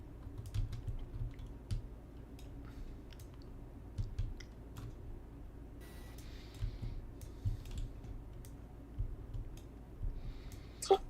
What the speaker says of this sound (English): Can't believe you're manually typing that out hexadecimal.